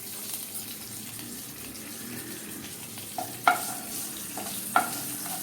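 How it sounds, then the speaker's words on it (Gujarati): Curry leaves and asafoetida sizzle softly in hot oil for a tempering, with a faint steady fry and a few sharp clinks of a spoon stirring in the pan. "હિંગ એડ કર્યા પછી આપણે તેલમાં બધું આ રીતે મિક્સ કરીએ એટલે વઘાર એકદમ સરસ તૈયાર થઈ જાય"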